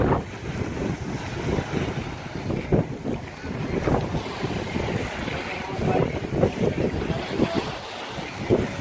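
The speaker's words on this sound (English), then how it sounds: "It's a wee bit windy down here" Gusty wind buffets the microphone on the south coast of Sweden at Smygehuk, a low rumbling roar with waves in the background and no clear talk.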